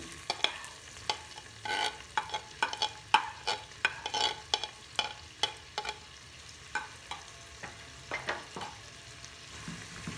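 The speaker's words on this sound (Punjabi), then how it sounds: "ਪਿਆਜ਼ਾਂ ਨੂੰ ਭੁੰਨ ਲਾਂਗੇ ਚੰਗੀ ਤਰ੍ਹਾਂ" Onions frying in a pan with whole spices and cumin for a paneer curry, a steady sizzle broken by a run of sharp scraping stirs through the whole stretch, close and fairly quiet, with no voices.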